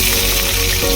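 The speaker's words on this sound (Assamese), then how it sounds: "এতিয়া মই পিঁয়াজখিনি অকণমান ৰঙচুৱা হোৱাকৈ ভাজি ল'ম" Onions frying in hot oil in a kadai with bay leaf, giving a close, steady, loud sizzle that runs unbroken through the short moment.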